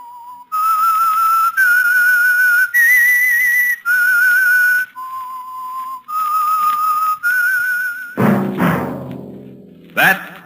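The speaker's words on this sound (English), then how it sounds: "That whistle is your signal, the Whistler." A melodic whistled tune in clear, sustained notes, loud and close, ending with a brief burst of orchestral music.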